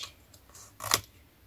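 Scissors cutting paper, a few faint snips followed by one louder, sharper cut near the end, close by and alone.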